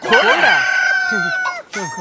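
A prized fighting cock crows loudly and close by in one long, ringing crow, then breaks off briefly before starting another.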